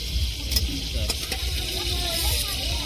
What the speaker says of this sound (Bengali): এখন আমরা চিংড়ি মাছগুলো ভেজে নেব।